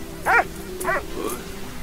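A dog in a World War I video game gives two short yipping barks followed by a softer whimper, close and clear over a low steady background hum.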